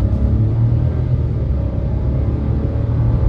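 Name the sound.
Chevrolet Montana Premier 2023 turbo engine revving on acceleration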